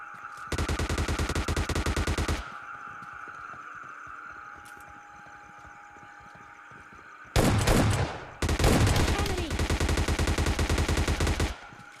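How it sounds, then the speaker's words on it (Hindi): S12 shotgun fire in PUBG Mobile Lite: a loud burst of rapid gunfire, a pause under ongoing game ambience, then a sharp shot followed by another long, dense volley, all close and loud. "S12 की उसकी 2 शॉट चिपका देता हूँ"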